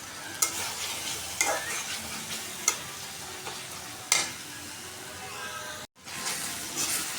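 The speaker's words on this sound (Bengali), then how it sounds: "মশলাগুলো কষা নিতেছি, সব মশলা দিয়ে দিচ্ছি আমি, ভালোভাবে কষা নেব।" Spices being stirred and sautéed in a pan for a home-cooked greens dish: soft continuous sizzling with sharp scrapes of a spatula against the pan every second or so, fairly quiet and close, with no talk.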